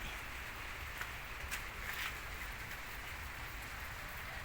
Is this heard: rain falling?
yes